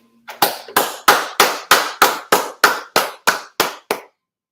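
A group claps in tight unison at the Israelite School of Universal and Practical Knowledge on West 125th Street. Eleven loud, sharp claps land at a steady, even pace with no talking.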